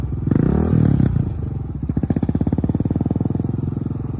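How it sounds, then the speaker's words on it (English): A motorcycle pulls away in first gear, its engine rising from a rough idle into a fast, steady pulsing putter, close and loud for a few seconds. "A little bit of gas once it starts moving."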